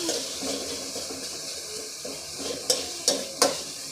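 Garlic and two tomatoes fry in a pan with a steady, close hiss of sizzling, broken near the end by three quick spatula scrapes against the pan.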